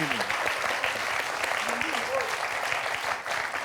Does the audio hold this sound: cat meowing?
no